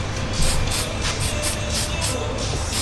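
Aerosol graphite lubricant sprays into a truck door lock in quick repeated hissing bursts, close and fairly loud, about six short pulses over a steady background.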